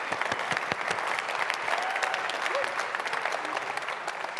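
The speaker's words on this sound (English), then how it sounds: "Lovely applause." Audience applause at an orchestra's season launch, a full, sustained ovation of many hands clapping steadily throughout, with a little crowd murmur mixed in.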